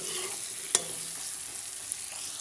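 Chopped bell pepper fries in a pan with a faint, steady sizzle, broken by a sharp clack of a spatula stirring it and a lighter tap near the end.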